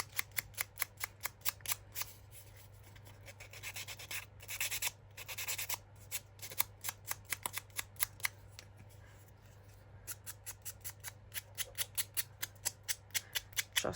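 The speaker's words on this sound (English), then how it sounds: "Get our sander and go round all the edges." A small hand sander is run around the edges of grungy paper ephemera, giving rapid, evenly spaced scratchy strokes that pause briefly mid-way, then resume at a steady close rhythm over a faint constant hum.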